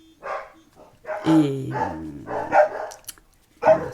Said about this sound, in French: pardon, désolé pour les bruits des chiens encore.